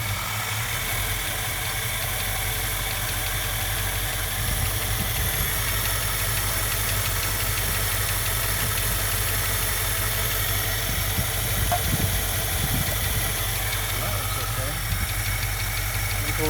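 A 1967 Ford Mustang engine with bad gaskets runs at a steady idle, a continuous low rumble that stays even for the whole stretch, with faint bits of talk over it.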